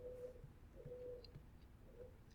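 Pigeons coo nearby in low, soft repeated phrases, three drawn-out calls spread across a quiet background.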